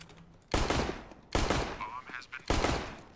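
Gunfire in a competitive online shooter match among friends: three loud bursts of rapid shots, each cutting in sharply and trailing off, separated by short quieter gaps with faint game sounds.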